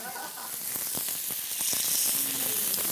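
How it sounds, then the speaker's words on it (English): Steak sears in oil in a hot stainless steel pan, a steady close sizzle with crackling pops throughout. "this kind of steak, you really want to sear on both sides"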